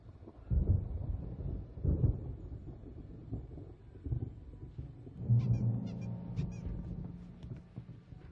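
Thunderstorm rumbling in an Amiga game scene, low rolling thunder swelling in several heavy bursts over about eight seconds, with a faint higher chirping sound near the end.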